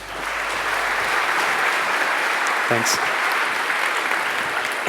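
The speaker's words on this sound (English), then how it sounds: "Give a round of applause" Conference audience applauding a speaker at a Laravel developer event, steady dense clapping filling the whole stretch at constant loudness, with a brief spoken word near the end.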